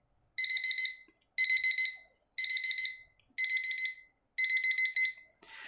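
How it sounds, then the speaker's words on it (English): A KTKUDY digital kitchen timer alarm beeps in five evenly spaced bursts of rapid high-pitched pulses, loud and close, with silence between each burst. "Once the time is up, you will hear the alarm."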